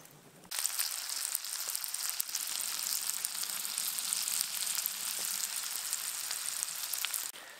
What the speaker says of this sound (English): already starting to sizzle